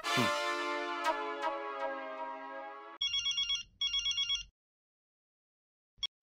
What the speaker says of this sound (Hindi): मैं मेहता साहब को फोन लगाता हूँ